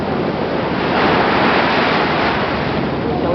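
Atlantic Ocean surf at a beach in Cascais roars steadily, a dense wash of breaking waves mixed with heavy wind buffeting the microphone, loud and unbroken throughout.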